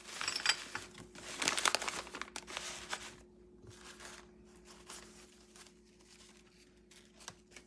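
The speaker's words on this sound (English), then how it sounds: "And I'm using this kind of like tissue paper, right?" Tissue paper crinkles and crumples while a gift basket is assembled, with loud bursts of rustling at first, then quieter, scattered crinkles close by.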